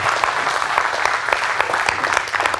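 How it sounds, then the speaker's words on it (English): An audience at a soil health workshop in Idaho Falls applauds, a dense, steady round of clapping that fills the whole moment without talk over it. "Let's give Christine one more round of applause"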